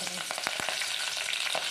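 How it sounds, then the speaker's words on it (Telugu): Curry leaves and dried red chillies crackle and sizzle in hot oil with mustard and cumin seeds for a rasam tempering, a close, steady frying hiss dotted with quick pops. "కరివేపాకు అయితే వేస్తున్నామండి."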